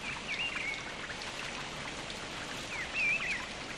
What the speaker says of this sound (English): Once the rain stops, that is.